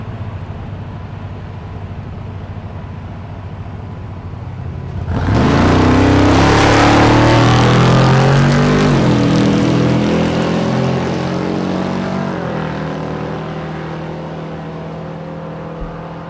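A Volvo wagon and a second-generation Camaro launch side by side at a drag strip, with a sudden loud engine roar about five seconds in that holds strong, then fades gradually as the cars pull away down the track.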